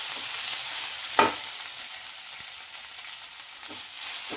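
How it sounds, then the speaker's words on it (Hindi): Ginger and garlic frying in a pan for mixed vegetable soup produce a steady, moderate sizzle, with one sharp utensil clatter near the start and a few faint stirring taps. "बस अब हम लोग इसे अच्छे से भूनेंगे, थोड़ा सा ब्राउन कर लेंगे इसे"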